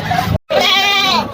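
Goats bleat at a livestock auction in Padre Garcia, two loud, close, wavering cries separated by a brief silence, with no talk over them.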